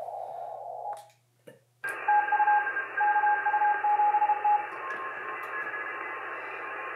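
An older ham radio receiving CW with no filter fitted: a burst of static cuts out, then several overlapping steady Morse tones ring over a constant hiss of band noise, fairly loud and alone.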